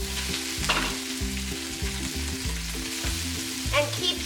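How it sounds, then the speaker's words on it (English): Pork belly and vegetables stir-fry for yakisoba in their own rendered fat, giving a steady close sizzle with rhythmic scraping and tossing from the stirring utensil, no voices. "And keep stir frying."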